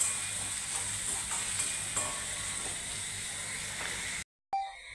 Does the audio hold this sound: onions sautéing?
yes